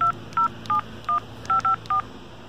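A telephone number is dialed on a keypad, with seven quick touch-tone beeps in an uneven rhythm over low background noise and no talking.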